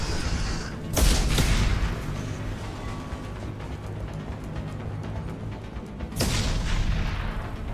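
Explosions in the video game Dispatch: two heavy booming blasts, one early and one near the end, each with a sharp broadband burst over a continuous rumbling, crackling bed of in-game noise.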